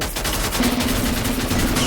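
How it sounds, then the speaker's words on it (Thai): Video game SVD sniper rifle shots crack out in a multiplayer battle royale, with sharp repeated reports of steady loudness over constant game background noise, with no voices. "เสียงปืนอย่างนี้ SVD ป่ะเรา"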